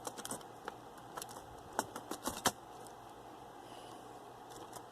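Laptop keyboard being fitted into place during a DIY replacement, bottom notches seated first: a few light plastic clicks and taps scattered over about five seconds, quiet and close, with no talking.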